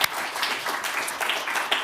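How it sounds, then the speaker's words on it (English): Brief burst of audience applause at a circular economy symposium, a moderate, steady patter of clapping from a room of listeners. "Let's give Adrian a round of applause."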